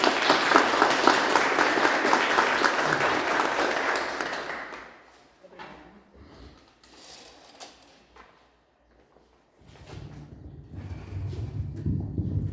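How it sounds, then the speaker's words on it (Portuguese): Applause from an audience at a spiritist seminar fills the first few seconds with dense clapping, then fades to scattered sounds and quiet before low murmuring resumes. "Salva de palmas."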